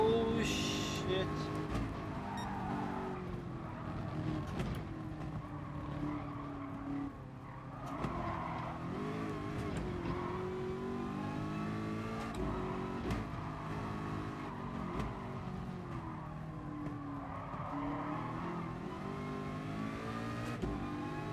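Ford race car engine in Gran Turismo Sport, a steady droning roar with pitch sweeping up and down through gear changes and some tire squeal, running continuously under a player's talk.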